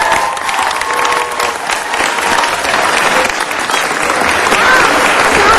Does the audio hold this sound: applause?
yes